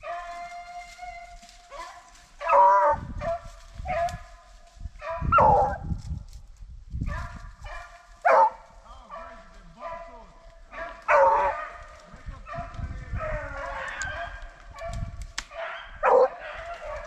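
Hunting dogs on a swamp rabbit chase in Mississippi bay and howl in repeated bursts at close to middle distance, with a voice talking and calling between them.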